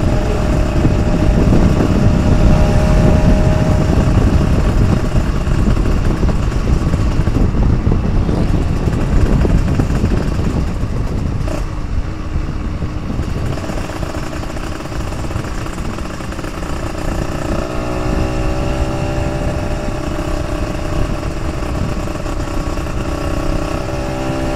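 Kawasaki Ninja RR two-stroke motorcycle fitted with an Oso 28 carburetor revs hard at full throttle, a loud, continuous buzzing engine note that holds steady, dips slightly midway, then climbs again with rising pitch, heard close with no talking.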